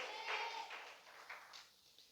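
A church congregation claps during a Hindi sermon, a short burst of scattered hand claps that is fairly faint and uneven, with soft room echo.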